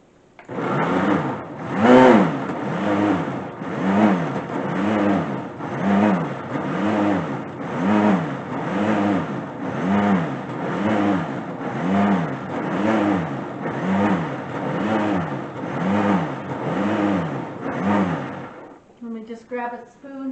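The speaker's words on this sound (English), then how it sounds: "blend it continuously until smooth" A blender used as a food processor whirs in rhythmic, loud, pulsing surges for about eighteen seconds, blending a keto meat sauce until smooth, then cuts off.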